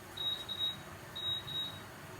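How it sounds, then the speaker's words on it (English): An oven timer goes off while an orange and lemon sponge cake bakes, giving four short, high electronic beeps in two pairs at an even rhythm over a faint room hum. "that's the timer going off"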